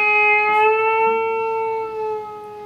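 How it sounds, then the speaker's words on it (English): A single picked electric guitar note is bent upward and held, sustaining cleanly and close, then fades slightly near the end with no voice over it. "pick on 10 and bend it up"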